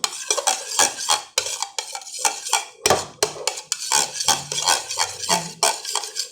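Food being stirred in a metal pot, a run of repeated scraping and clinking strokes of a utensil against the pot, close and steady with a soft sizzle beneath.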